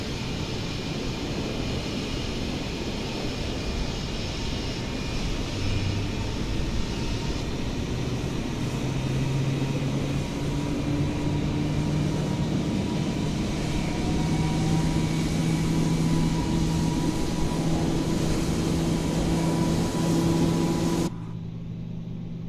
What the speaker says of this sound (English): we are spooling up, still waiting for that 20 or the available indication to come on